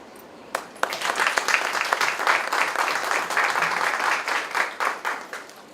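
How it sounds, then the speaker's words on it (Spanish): Loud, sustained applause from a legal symposium audience after a talk, dense clapping that swells quickly after a couple of sharp early claps, then gradually thins toward the end. "Entonces le damos un fuerte aplauso."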